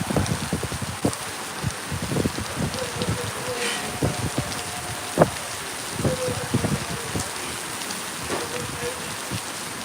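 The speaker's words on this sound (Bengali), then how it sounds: "অনেকে বৃষ্টির দিন বৃষ্টি উপভোগ করতেছে" Rain falling steadily on a rainy day, with a continuous patter of drops and scattered sharper hits on surfaces, joined by faint distant voices.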